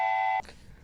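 A short electronic notification beep from a phone, one sustained steady tone that cuts off abruptly, followed by faint room noise.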